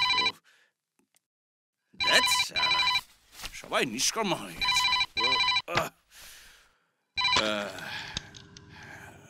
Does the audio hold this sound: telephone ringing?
yes